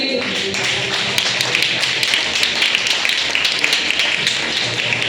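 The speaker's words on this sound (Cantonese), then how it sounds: "掌聲歡迎" A crowd applauds continuously at a student MC competition final awards ceremony in Macau, a dense, steady patter of many hands clapping at close range.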